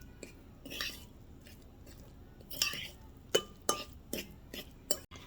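Seasoned ingredients and cracked black pepper are stirred together in a bowl, giving a quiet run of scattered wet squishes and sharp utensil clinks against the dish, irregular and close.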